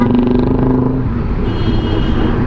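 Loud, rumbling exhaust from a container truck on the road, heard close as a heavy continuous engine drone with a throbbing low tone and some talk in the background.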